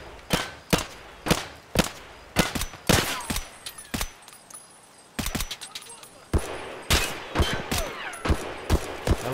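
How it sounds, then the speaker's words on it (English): Gunfire from a scav at night in the video game Escape from Tarkov, a long string of sharp, loud gunshots in irregular bursts and single cracks, close and dominant throughout. "Hella getting shot at by a scav."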